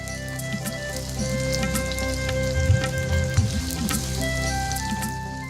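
Green chilli paste, salt and turmeric fry in a pan, making a loud, dense sizzle with scattered spitting crackles and a low burner hum running steadily beneath.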